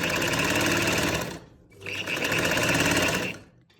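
A sewing machine runs in two fast, loud bursts of stitching on a kurti neckline facing, with a brief pause between, close up and with no talk.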